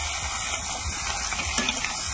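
Spices hit hot oil left from frying potatoes, giving a steady close sizzle with faint stirring clinks underneath.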